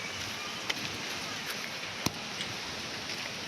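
Strong, gusty wind blows at a riverside during a storm, a steady close roar of rushing air buffeting the microphone throughout, with a couple of brief sharp knocks.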